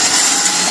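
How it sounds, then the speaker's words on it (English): A cheap cordless drill from Harbor Freight gives a short, loud, close whirring burst lasting under a second, with no talking. "Cheap cordless drill I got from Arbor Freight back in the day."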